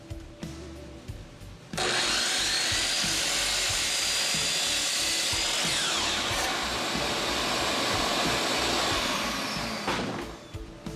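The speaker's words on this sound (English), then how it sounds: "First I cut two 8-foot 2x4s to 7 feet long." A power saw cuts through 8-foot 2x4 lumber, trimming it to 7 feet, with a loud continuous whine that starts abruptly and runs for about nine seconds before spinning down.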